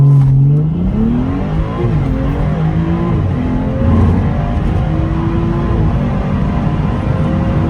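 A Stage 3 BMW M240i launches at full throttle from inside the cabin, its engine roaring loud and close as the pitch climbs through rapid gear changes under hard acceleration.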